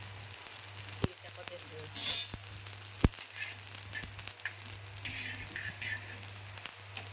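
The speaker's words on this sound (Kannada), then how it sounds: "ನೋಡ್ರಿ ಅವಾಜ್ ಕೇಳಿಸ್ಲತ್ತಿರ್ಬೇಕ್ರಿ ಹೆಂಗೆ ಚಟಪಟ ಅಲ್ಲತ್ತ ನೋಡ್ರಿ ಸಾಸಿವೆ ಈಗ" Mustard seeds crackle and pop in hot oil, scattered sharp snaps over a steady low sizzle, fairly faint with a constant low hum beneath.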